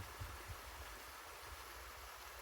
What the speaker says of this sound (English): I think about the water in the background and the sound that it's making